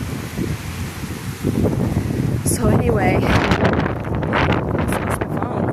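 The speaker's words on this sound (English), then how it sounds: "that wind gust is beautiful" A gust of wind blows outdoors as a loud rumbling buffet across the microphone, swelling partway through, while a person talks briefly over it.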